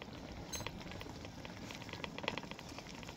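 Oil heating in a pan before sabudana goes in, a soft steady bubbling hiss with light crackles, quiet and close, with no talk over it.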